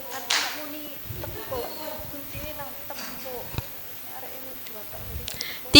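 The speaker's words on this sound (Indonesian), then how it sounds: "Tepuk tiga." A classroom of students clapping hands in short counted bursts during a lesson, a few sharp clap clusters separated by gaps while a teacher talks over them.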